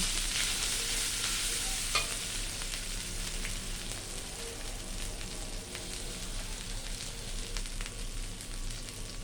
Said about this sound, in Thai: ผัดผัดพริกให้หอม